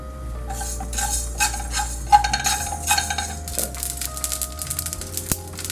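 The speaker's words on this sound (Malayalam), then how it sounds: "ഇത് ഉലുവയും കടുകും ഒക്കെ ഒന്ന് ഡ്രൈ റോസ്റ്റ്" Fenugreek and mustard seeds dry roasting in a pan give a close, busy rattle of light clicks and metallic scrapes as a spoon stirs them, irregular and continuous with a few sharper taps.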